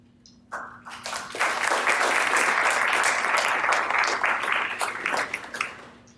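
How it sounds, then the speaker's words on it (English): Audience applause fills a conference hall at a side event, starting abruptly and holding steady and loud for several seconds before tapering off. "Tarek, I think the applause came because you said you were troublemakers."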